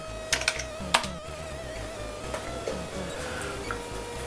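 Keys on an Amiga 4000 keyboard are pressed during a diagnostic keyboard test: a few sharp clicks early, then scattered softer key taps over a faint steady background hum.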